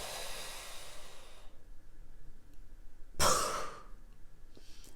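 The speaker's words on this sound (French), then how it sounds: "vous allez inspirer par la bouche, tenir le poumon plein quelques instants, quelques secondes, et expirer de manière puissante par la bouche" During a Kundalini yoga breathing exercise, a long mouth inhale fills the first second and a half, a quiet hold follows, then a short, forceful exhale bursts out through the mouth, close and alone.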